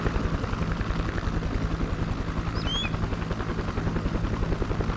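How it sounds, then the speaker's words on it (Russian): A helicopter flies in the video game ArmA 2, its rotor thumping in a fast, steady rhythm, loud and close for the whole stretch with a constant engine whine underneath. "Удивительно, на этой миссии вертолет еще летает."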